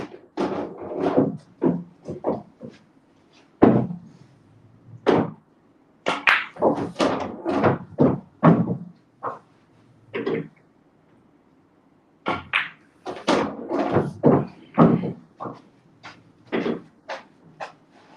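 Pool balls clack sharply during a 15-ball practice session, with a series of distinct close knocks and thuds separated by short pauses, some in quick clusters.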